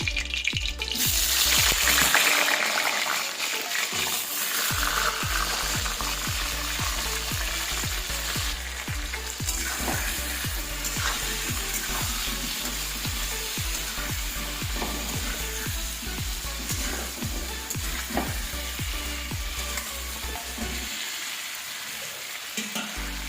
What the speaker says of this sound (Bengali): এরকম তেলটা এবার গরম হয়ে গেছে। এবার আলুটা ভেজে নেব।